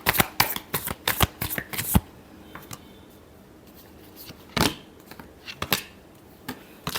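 Tarot cards shuffled by hand for a love reading, a fast run of crisp riffling bursts followed by a pause and then several more scattered shuffles, close and clear, with no talking.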